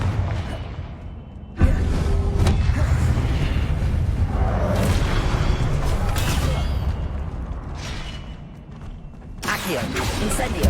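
Explosive Confringo spell blasts in Hogwarts Legacy gameplay on PS5 go off as loud booming whooshes that roll over continuous game noise, with a sharp burst near the start and another late.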